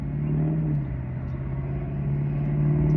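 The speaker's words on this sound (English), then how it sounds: "Just kidding, that's another truck." A truck drives past close by, its steady engine rumble and road noise holding loud and even throughout with a faint rise toward the end.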